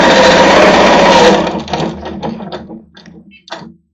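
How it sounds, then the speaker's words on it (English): A sewing machine doing ruler work on a quilting frame runs at a fast loud whir, then slows to a few separate stitches as it stops with the needle down, its motor clicks fading into quiet. "I go ahead and let it stitch a couple of times."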